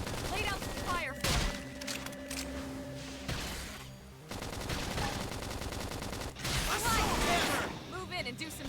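Rapid automatic gunfire and explosive hits fill a dense battle in the video game Xenoblade Chronicles X, continuous and loud, mixed with game music and effects.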